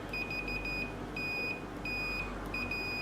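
A Fluke 117 multimeter's latching continuity buzzer sounds a steady, high-pitched electronic tone in several sustained bursts with short gaps, close and clear over a low background hum.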